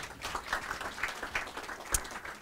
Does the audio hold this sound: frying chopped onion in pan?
no